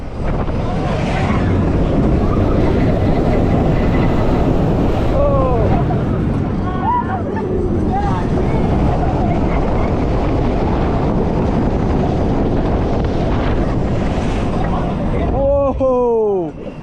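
A ride on the Flash Impulse roller coaster at Six Flags Great America in Gurnee, Illinois: a loud, steady rush of wind roar throughout, with riders' screams and shouts rising over it at several points.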